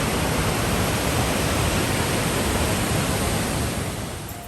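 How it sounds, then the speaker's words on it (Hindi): Man-made waterfall on the Lech river between Germany and Austria, a dense broadband roar of rushing water, loud and unbroken, easing off slightly at the end. "आप देख सकते हो कितना ब्यूटीफुल वाटरफॉल है ये"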